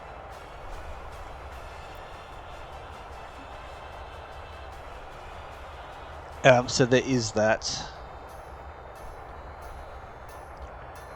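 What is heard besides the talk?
train running at 65 km/h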